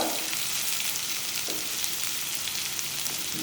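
About ten garlic cloves roasting with fresh coconut for a Malvani-style prawn curry masala give off a continuous, moderately loud frying sizzle, with a couple of soft stirring scrapes.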